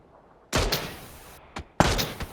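Gunfire in the video game PUBG: several sharp, loud shots, first a close pair near the start, then a single shot and another burst, with quiet stretches between.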